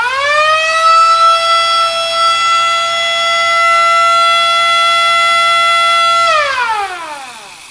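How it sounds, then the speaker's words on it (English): A 1936 Ford police car's mechanical siren wails loudly up to a sustained steady tone for several seconds, then winds down in a falling sweep. "this is my 36 Ford police car that my wife Louise and I raced in the Great Race"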